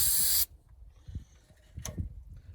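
An aerosol can sprays onto an engine part in a short, loud hissing burst that cuts off abruptly, followed by quiet handling clicks and rustles.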